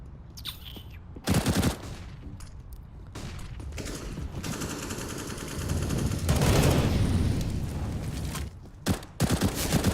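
AK rifle gunfire in a Counter-Strike match, bursts of rapid automatic shots separated by pauses, loud and close, with a long sustained burst in the middle.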